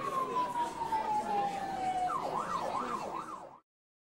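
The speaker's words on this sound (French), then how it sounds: "les sirènes de police retentissent au premier plan" Police siren in a Resident Evil audio drama set in Raccoon City, a descending wail shifting into a rapid yelp, heard over muffled crowd murmur before cutting off.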